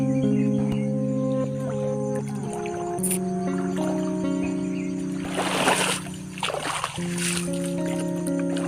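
River water splashes and sloshes close by in a few short bursts over a steady tonal hum.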